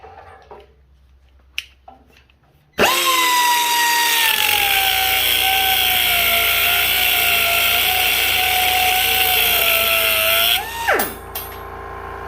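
A Harbor Freight Chief 4-inch extended air cut-off tool starts with a sharp burst and then cuts with a loud, sustained high whine for about eight seconds. Its pitch dips slightly under load, and it winds down abruptly at the end.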